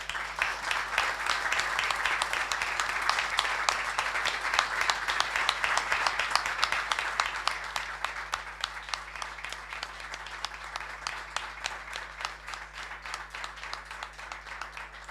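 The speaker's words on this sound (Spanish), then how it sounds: "Quiero un aplauso para todos los compañeros desaparecidos" A council chamber during a special session marking the anniversary of Argentina's coup gives steady applause for the disappeared; many hands clap in a fairly even, moderately distant stream over a low constant hum, gradually thinning toward the end.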